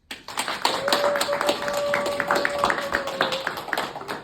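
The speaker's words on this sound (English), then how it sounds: "One last round of applause." A small group claps in an uneven round of applause, with individual claps distinct and close, lasting about four seconds over a faint steady tone.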